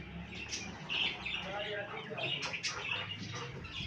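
A parrot squawks and chirps in short, fairly faint bursts near a cage, repeated several times over low background noise and muffled voices.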